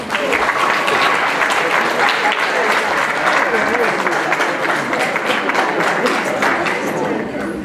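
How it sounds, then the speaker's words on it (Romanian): An audience applauds comedian Alexa Istrate at a youth culture house stage show in Reghin, a loud, dense, continuous wash of clapping from a close crowd that holds steady before tapering slightly at the end. "Aplauze!"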